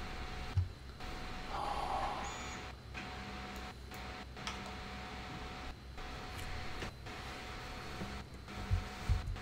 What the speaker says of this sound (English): the static you're probably hearing is a 3D printer printing in the background